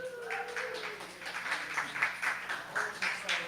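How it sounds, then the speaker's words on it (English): Audience applause at an open mic night in Winnipeg, modest scattered clapping from a small crowd in a room, steady throughout with a faint tonal hum underneath. "Round of applause once again."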